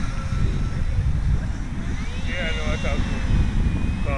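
Hobbyking Flyjet X-83 RC jet with a 64mm electric ducted fan making a slow inverted pass, giving a steady whining fan tone that rises and shifts as it flies by, moderately loud and continuous.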